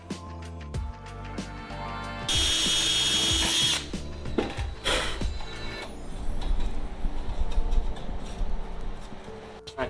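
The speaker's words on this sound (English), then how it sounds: "which I'll drill out now." A power drill bores out a hole in a tie-down block during a Sonex main spar assembly, running in loud sustained bursts with ratcheting, grinding texture and brief pauses between passes, close by with no talk.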